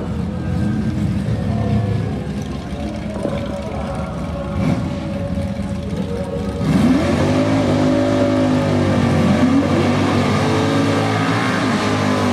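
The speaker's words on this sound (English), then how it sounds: "AJ Cassini on the inside with his 65 Hemi Plymouth Belvedere" Nostalgia drag race cars, a 1966 427-powered Chevelle and a 1965 Hemi Plymouth Belvedere, at a drag strip: loud engines rumbling, then rising revs as they launch and pull away at full throttle.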